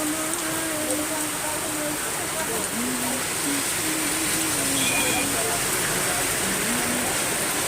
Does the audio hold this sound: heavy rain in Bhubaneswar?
yes